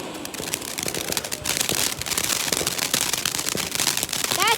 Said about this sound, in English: That's what I call fireworks.